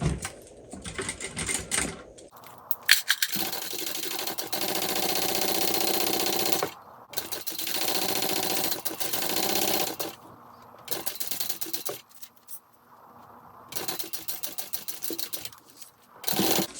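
A sewing machine stitches a handbag seam in several long, even whirring runs broken by short pauses and small clicks of handling.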